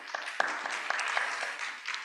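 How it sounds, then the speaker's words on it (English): Audience applause at a housing affordability panel during a NAACP legislative symposium, a steady patter of clapping from a moderately sized crowd lasting about two seconds, with scattered sharper claps standing out. "Clap it up for Ms. Hovermale."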